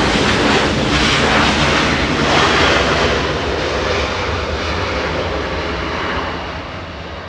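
A jet airliner takes off from runway 24 at Los Angeles International Airport, its engines a loud, close, continuous roar that eases only slightly toward the end, with no voices.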